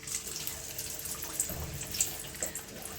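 Maddur vade batter sizzles softly in hot oil, with a steady, faint hiss dotted with small crackles and pops, heard close with no talking.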